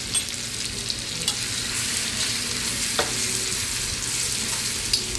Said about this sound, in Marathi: हिरवी मिरची आणि लसूण आपण बारीक करून घेतलेलं आहे ना ते घालायचं याच्यामध्ये आणि चांगलं तेलामध्ये परतून घ्यायचं व्यवस्थित